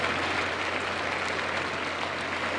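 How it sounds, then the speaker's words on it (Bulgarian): Crowd applause at a solidarity rally on the Place de la République in Paris honouring a murdered history teacher, a steady outdoor wash of clapping from thousands that stays even throughout. "Аплодисментите са за Самюел Пати."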